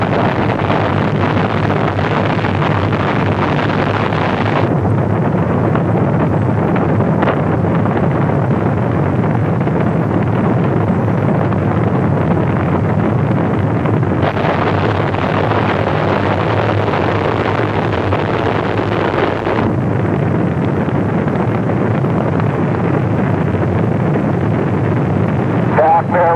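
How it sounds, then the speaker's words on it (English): Space Shuttle Columbia's main engines start and the launch builds into a loud, continuous roar with wind-like rumble, surging in broad bursts, with a voice heard over it. "Main engine starts. We have main engine starts."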